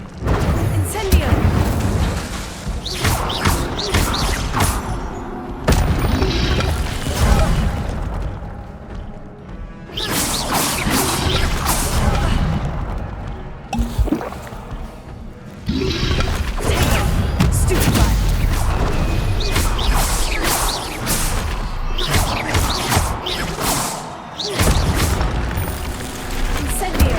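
Incendio fire spell cast in the Hogwarts Legacy video game: loud booming blasts and crashing whooshes in a continuous stream with brief gaps, under a voice speaking.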